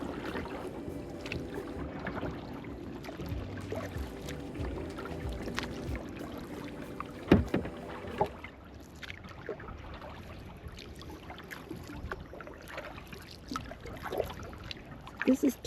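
A kayak is paddled away from the docks on Tarpon Bay, with soft water swishes and paddle strokes, an occasional knock against the hull and light wind, all fairly quiet and close.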